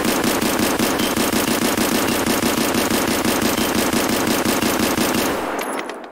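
An SKS rifle in the video game Escape from Tarkov fires a rapid, unbroken string of shots for about five seconds. The loud gunfire is heard alone and stops abruptly near the end.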